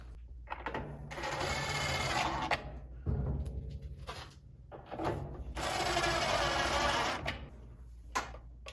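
Screws being backed out of a washing machine panel with a power driver, several whirring bursts of varied length separated by short gaps and light clicks, loud and close.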